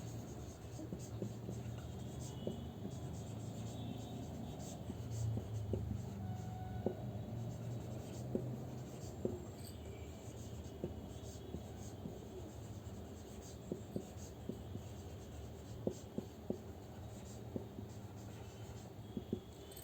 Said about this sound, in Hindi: यहाँ पे हेडिंग लिख दे रही हूँ पहले।